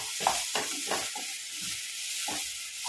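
Tomatoes with ginger paste frying in a pan for a soya tikka masala gravy, a steady sizzle with several scraping stirs of a spoon against the pan, close and alone.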